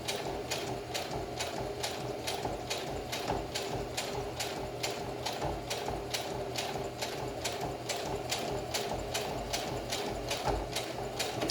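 A sewing machine stitches fabric for a homemade face mask, running steadily with a fast, even rhythm of needle strokes that stays close and constant throughout.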